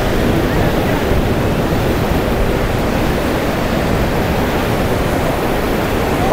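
Strong wind buffets the microphone at Ponta Negra beach in Natal, a steady, loud roar of broadband rumble blending with surf, continuous and close throughout with no speech.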